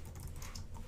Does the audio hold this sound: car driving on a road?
no